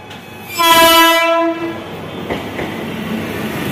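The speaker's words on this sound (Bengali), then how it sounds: "ট্রেন ঢুকছে।" A train pulls into a station and sounds a loud, sustained horn blast lasting about a second. Rumbling carriages and station noise carry on after it, and no one speaks.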